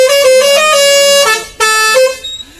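Loud, close vehicle horn playing a custom melody tune, a sustained multi-tone musical blare that breaks briefly and resumes, with no talk.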